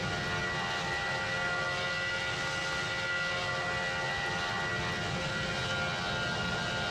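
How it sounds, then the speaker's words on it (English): Loud, steady roar of an airplane's engines building power as it accelerates down the runway at Changi Airport, a dense broadband rumble throughout with no voices. "The plane accelerates down the runway."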